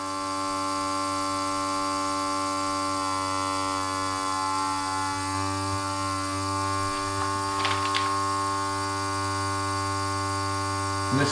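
A vacuum sealer runs with a steady electric hum and buzz, constant throughout, with a brief rustle of the bag near the end.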